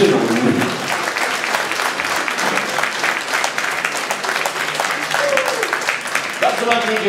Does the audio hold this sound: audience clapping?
yes